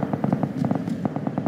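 Distant gunfire in PUBG, a rapid scatter of faint pops and cracks repeating irregularly over a low ambient background, with no speech.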